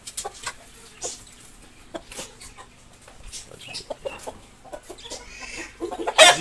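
A prized rooster clucks at a bird keeper's place in Islamabad, with scattered short calls and a louder burst near the end against light background noise.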